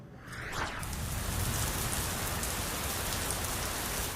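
Steady rain pours down continuously in a farming region, a dense, even hiss of drops on surfaces with no talking.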